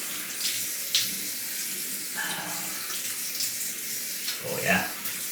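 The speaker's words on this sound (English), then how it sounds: "Let me rinse up" Tap water runs into a sink while someone rinses after a wet shave with Proraso Green soap, a steady hiss of flowing water broken by a few splashes and faint handling sounds, close by.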